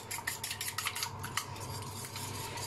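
Eggs with salt, tomato, cheese and ham are beaten with a fork in a bowl for a sandwich-style tortilla, quick faint rhythmic clinks and whisking taps that settle into a softer swirl.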